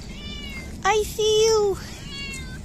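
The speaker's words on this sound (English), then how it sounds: "Oh, no, it's a kitten." A kitten close by lets out two meows, a short one and then a longer drawn-out cry, while a person speaks softly before and after.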